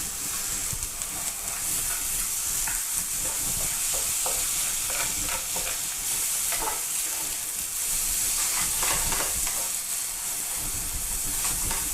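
Ingredients warming through in a frying pan for a creamy chicken coconut milk tikka curry, giving a steady, close, continuous sizzle and hiss with faint stirring scrapes throughout.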